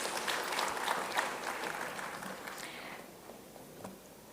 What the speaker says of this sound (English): So a big round of applause for the newly elected members.